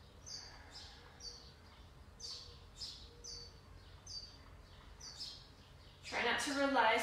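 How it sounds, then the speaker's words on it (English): Birds sing outside during an indoor yoga class, giving short, repeated chirps at a steady pace. They sound fairly faint and distant over a low background hum, and a louder burst of noise comes near the end. "Enjoy the ambience of the birds outside."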